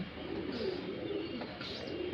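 Shahjahanpuri breed pigeons, including a female, coo softly nearby in a low steady burble, faint and uninterrupted, with no talk.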